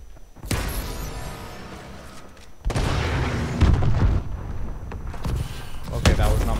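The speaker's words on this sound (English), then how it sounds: "Friendly missile strikes inbound." Missile strike explosions in Call of Duty: Advanced Warfare multiplayer: several heavy, booming blasts hit in succession, the first alone, then a rumbling cluster of louder impacts with a voice talking over part of it.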